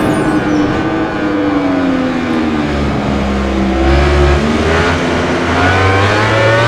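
A MotoGP 19 racing motorcycle holds sixth gear on a straight, its engine a loud, sustained high whine that rises and shifts pitch steadily, with no voices over it.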